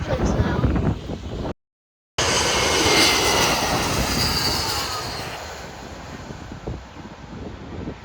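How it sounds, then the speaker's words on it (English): A jet airliner roars loudly overhead while landing over Maho Beach, Sint Maarten, the rumble swelling then slowly fading, with a brief cut near the start and faint voices underneath. "enjoy this quick little montage of planes landing over Maho Beach"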